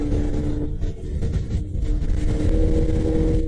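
A Honda ADV160 scooter rides along an open road at 120 km/h with no passenger or luggage, its engine droning steadily under a constant roar of wind and road rumble.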